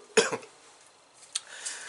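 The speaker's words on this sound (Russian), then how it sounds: "кое-как откашлялся" Sharp single cough from a person who has breathed in sulfur fumes while patinating silver with liver of sulfur in a garage, followed by a softer second cough and a faint throat sound, close and brief.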